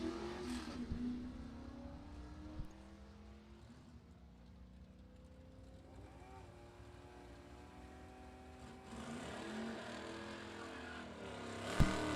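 Drag race cars, a Chevrolet Z28 and a 1979 Mustang, heard as a faint, distant engine drone that rises and falls in revving waves before growing louder near the end.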